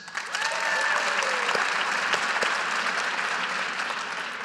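An audience at a business talk applauds in a full, sustained burst that swells quickly and then holds steady, with faint voices underneath.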